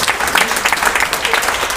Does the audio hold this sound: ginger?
no